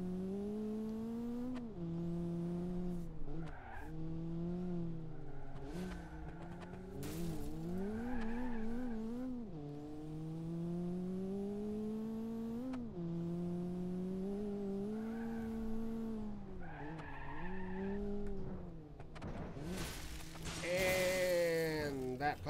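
Cars in a racing video game rev and whine with rising and falling engine tones, punctuated by tire squeals and skids, loud and continuous throughout.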